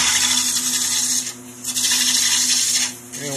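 Wood being turned on a lathe to shape Windsor chair legs with 18th-century style tools, a steady loud whirring scrape with two brief dips as the cutting tool lifts off the spinning workpiece.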